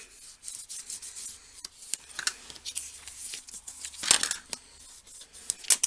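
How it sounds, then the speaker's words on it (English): A bone folder rubbed firmly along the folded edge of a card, giving repeated close scraping and swishing strokes of varying strength, with no talking. "I'm just going to run my bone folder over that."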